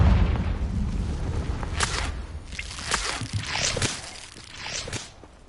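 Confringo fire-blast explosions in Hogwarts Legacy combat, a rapid run of sharp bursting impacts and whooshes piling over a dense, rumbling battle background with no pauses.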